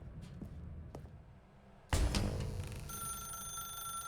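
Telephone ringing in the video game The Stanley Parable: Ultra Deluxe, a bright electronic bell that starts suddenly and rings steadily and fairly loud after a quieter stretch of ambient hum, with no talking.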